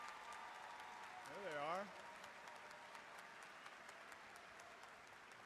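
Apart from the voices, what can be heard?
audience applause at a university commencement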